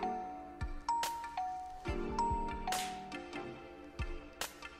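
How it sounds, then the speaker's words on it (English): A doorbell in the visual novel game Connected Hearts rings twice with clear chiming tones. Each chime is followed by softer clicks and thumps, and nobody speaks. "I heard someone ringing the bell at the door."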